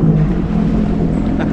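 Jet ski engine droning steadily on the water at Pico de Loro, a loud continuous low hum with wind buffeting the microphone throughout.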